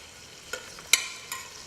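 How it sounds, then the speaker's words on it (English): Garlic and chicken fry in a pan with a soft, faint sizzle, broken by three quick scraping stirs, no voices present. "You can hear it sizzling."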